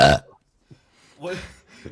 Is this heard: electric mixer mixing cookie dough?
no